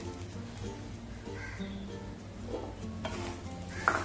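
Coconut and jaggery stirred in a hot pan, with a soft continuous sizzle and faint scraping, steady and close, no voices.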